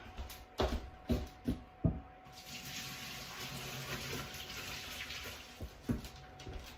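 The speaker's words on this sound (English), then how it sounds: "I'm gonna dump these, drain these off." Boiled lasagna noodles are drained: a few hollow knocks and clunks come first, then a steady, close rush of water pours out for several seconds.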